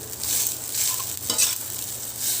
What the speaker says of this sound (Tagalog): So dito ko na siya niluto sa pinagprituan ko ng tuyo.